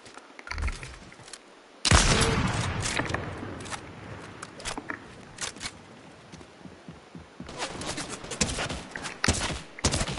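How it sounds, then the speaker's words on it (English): Video game gunfire from players shooting in the middle of the map, with a sharp burst near two seconds followed by scattered shots and clusters of cracks, fairly loud throughout with brief quieter gaps. "And now people are shooting from middle."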